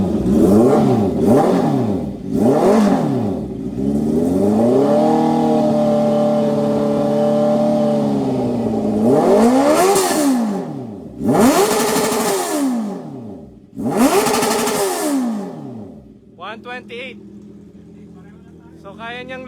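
Motorcycle with an aftermarket exhaust, a Kawasaki Z650 or Honda CB650R, revving hard in repeated loud blips and one long held rev, close by, followed by a quieter idle with someone speaking briefly.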